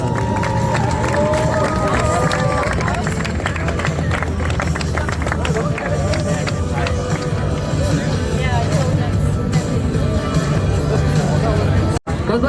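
Crowd applause and cheering at a Granfondo Vosges cycling event honour the women's 40-44 category winner, a steady dense roar of clapping and voices with general hubbub throughout.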